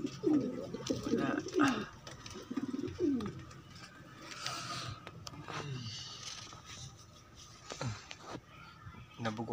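Pigeons coo repeatedly in a loft on a rainy afternoon, their soft throaty calls rising and falling close by with a few faint scrapes of movement between them.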